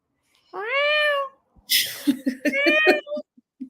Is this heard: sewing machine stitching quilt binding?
no